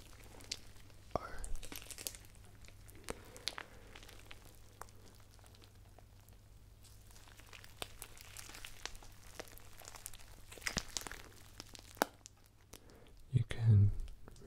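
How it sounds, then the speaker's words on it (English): Cereal O's crunching inside milk slime, giving faint, close crinkly crunches and squishes under soft whispering, with a louder burst of handling near the end. "You can really kind of hear the cereal crunching inside."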